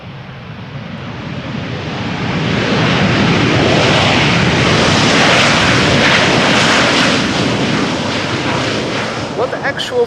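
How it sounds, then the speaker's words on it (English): A Boeing 737 landing at Amsterdam Schiphol with thrust reversers deployed, a loud broadband engine roar swelling to a peak and holding before it eases off, with a voice talking over it. "They're all using the reversers today."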